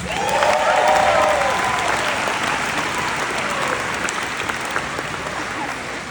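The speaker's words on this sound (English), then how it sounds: "Let's get a round of applause for our testers today." Sustained audience applause at a keynote speech for martial arts testers at a national event, a dense, steady clapping crowd filling the room for about six seconds, slowly tapering.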